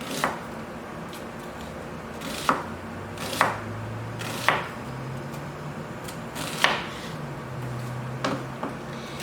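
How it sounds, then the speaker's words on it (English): A knife chops squash and zucchini into little slices on a cutting board with about eight distinct, close, sharp knocks at uneven intervals and quiet kitchen background between them, with no talk. "I like to make just little slices."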